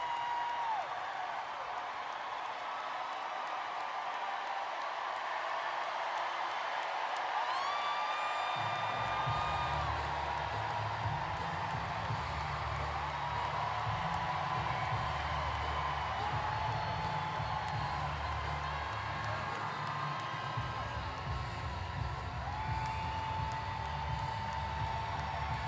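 A dense crowd roars and cheers at a Kamala Harris and Tim Walz campaign rally in Philadelphia. The steady wash of noise stays loud and continuous, with a deep rumble swelling in partway through.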